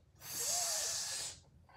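A person lets out a long, breathy hiss, imitating an angry cat during a yoga class, lasting about a second before fading to quiet.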